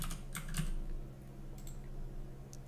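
Fingers tapping keys on a computer keyboard in a short burst of quick clicks, close and soft, followed by a couple of isolated keystrokes in a quiet room.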